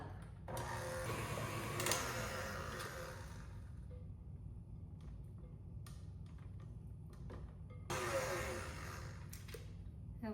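An electric mixer whips cream in a bowl for banana pudding cookies, a steady close whirring hum that runs nearly throughout with a few brief louder bursts and clatters.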